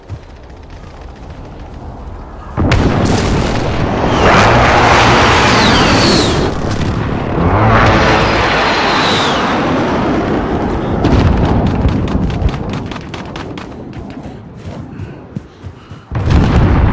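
Precision airstrike explosions in Call of Duty Warzone on the Talsik Backlot multiplayer map roar as a loud, sustained rumbling barrage of booms lasting over ten seconds, trailing into crackling blasts.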